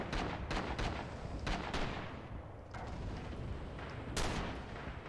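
Gunfire rings through tight corridors in the Rising Storm war game: several sharp, loud shots crack over a dense, rumbling battle din, with one heavier report near the end.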